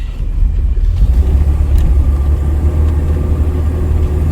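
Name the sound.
1973 Jaguar Series 2 engine driving up a hill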